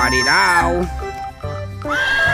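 A toy zebra's electronic whinny, high and wavering, followed by a second shorter neigh, loud and close.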